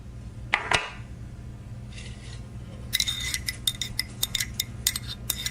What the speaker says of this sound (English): scraping the very last of the locally sourced fig jam